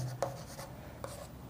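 Pen or chalk strokes of someone writing out a Class IX circle theorem proof on a cyclic quadrilateral, a few short scratchy marks with pauses between them, close and fairly soft.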